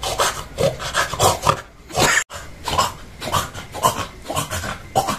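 A person imitates a pig with rough, rasping snorts and grunts in quick irregular bursts, close and fairly loud, broken by a brief pause midway.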